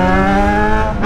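A Yamaha XJ6 motorcycle engine revs hard and loud up close in a steady high-pitched whine, then shifts pitch abruptly near the end as a gear is changed.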